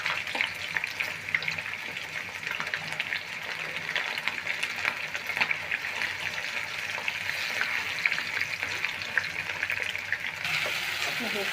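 Chicken pieces fry in a pan with a steady, bright sizzle that runs unbroken for about ten seconds, broken by occasional stirring and scraping noises.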